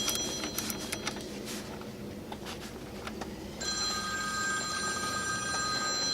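A telephone ringing in a home garage, heard amid faint background activity during car battery and parasitic draw testing; from about 3.6 seconds a steady electronic ring starts and then continues without a break.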